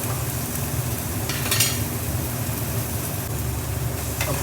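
Onions frying in a home kitchen pan, a low steady sizzle with occasional stirring scrapes, fairly quiet and with no talking.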